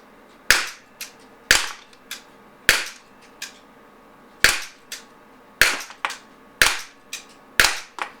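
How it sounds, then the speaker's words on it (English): Rapid fire from a Beretta Px4 Storm Recon 4.5mm pellet pistol, about a dozen sharp, close cracks in quick uneven succession, each with a faint metallic tap after, no talking. "You can see I'm doing rapid fire, very fast shooting, and it's still grouping in that kind of grouping."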